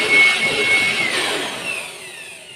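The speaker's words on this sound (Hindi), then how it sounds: "अच्छा ब्लोवर है और बहुत तेज हवा मतलब ये दे रहा है, निकाल रहा है अपने अंदर से" An Ingco 400W aspirator blower runs indoors, a loud, airy whoosh of rushing air that peaks early, then slowly fades and thins toward the end, with no talk over it.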